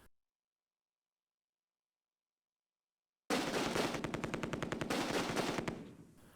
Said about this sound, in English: I managed to bring direct fire onto the MG42 position, which is still firing.